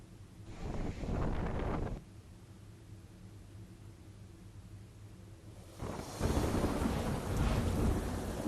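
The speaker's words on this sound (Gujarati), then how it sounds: "ભારે પવન સાથે ધોધમાર વરસાદથી શહેરમાં પાણી થયું" Heavy downpour with strong wind over a city, a dense roar of rain and buffeting gusts that swell loudly at the start, ease to a steady hiss, then surge again near the end.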